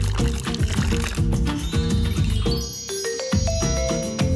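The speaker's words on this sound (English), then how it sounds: "Add a little water." Water trickles and pours onto Skittles candies on a plate, a short liquid splash heard under a loud musical backing with chiming tones.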